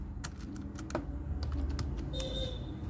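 Someone types on a computer keyboard, producing a quiet run of scattered key clicks over a low background hum.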